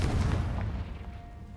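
A Confringo spell explosion in Hogwarts Legacy, set in a cave, lands as one deep, loud boom that rumbles and fades away over about a second.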